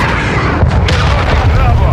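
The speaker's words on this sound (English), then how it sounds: "Friendly cruise missile on target." A cruise missile strike in Modern Warfare II lands with a loud, rumbling explosion, heavy low boom and sustained roar filling the short moment, with a voice speaking over the blast.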